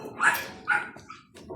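A dog near a warehouse pickup spot barks in two sharp, close yelps followed by a softer whimpering yip, all within a brief moment.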